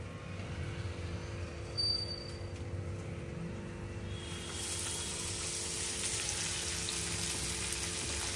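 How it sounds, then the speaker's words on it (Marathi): Low hum runs throughout, then a soft sizzling hiss rises midway and continues steadily, faint and close, as pieces of fish fry on two griddles. "आणि 2 तव्यावरती फ्राय करता"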